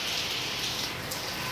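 Dense, heavy rain pouring down in a constant hiss, loud and close, with no pauses.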